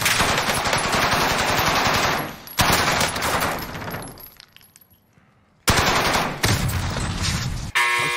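Rapid automatic gunfire in the video game Warzone, loud sustained bursts with one brief lull, dense and close with no talking.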